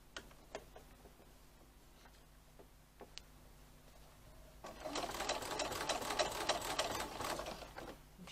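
Quiet ticks and small mechanical clicks come first, then a sewing machine starts a steady, fast stitching run through teddy bear fabric, close and moderately loud for the last few seconds.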